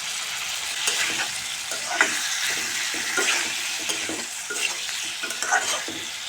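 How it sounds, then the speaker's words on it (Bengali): Cucumber pieces stir-fried with spices in a pan for a Bengali fish curry give a steady close sizzle, with scraping stir strokes every second or so. "শসা কিছুক্ষণ এভাবে মশলার সাথে কষিয়ে নেব"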